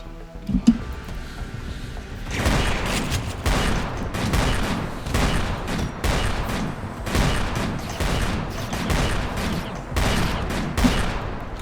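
Guided shots fired repeatedly in a video game, a long run of punchy blasts in uneven quick succession after a quieter opening, loud and close, with rumbling impacts between them.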